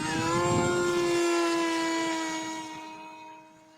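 High-pitched whine of a radio-controlled model plane making a high-speed pass, loud and close at first with its tone sliding slightly as it passes, then fading into the distance over a few seconds.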